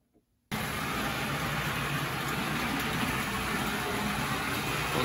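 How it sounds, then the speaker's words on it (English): After a brief quiet start, a restored Penn Line HO scale GG1 model locomotive with a belt drive runs with a steady, noisy whir and some gear noise from its trucks, close and constant. "nowhere even close to being a silent runner, but that belt drive really did make a difference. It's running pretty well."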